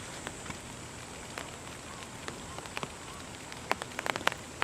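Rain falls on surfaces in a quiet Japanese village, a steady close patter with scattered louder drips and taps that bunch together toward the end, and no one speaks.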